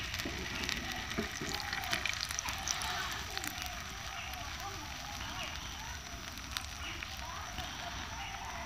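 Egg batter frying in hot oil for a mini Mughlai paratha with liver filling, a continuous, busy sizzle and crackle close to the pan, fairly quiet overall.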